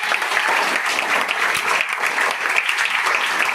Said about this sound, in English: So maybe have a round of applause for him.